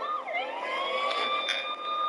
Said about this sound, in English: This is how the siren and the lights look on the vehicle.